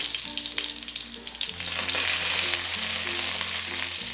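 Dried red chilies and curry leaves crackle and sizzle in hot oil with mustard seeds for a sambar, a loud, steady frying hiss with sharp spitting pops and low cooking hum beneath, no voices.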